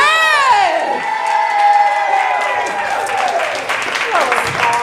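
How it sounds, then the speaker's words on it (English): Audience applause and cheering for author Denny Bryce at a book event, loud clapping mixed with whoops and excited shouting voices, sustained and close. "Put your hands together for author Denny Bryce."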